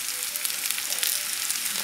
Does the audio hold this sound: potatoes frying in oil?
yes